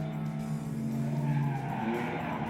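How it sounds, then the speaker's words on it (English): An MG race car spins mid-track at a hairpin, its tires skidding and squealing in a sustained, loud screech over engine drone, continuous for the whole stretch. "Houston spins his MG in the middle of the track"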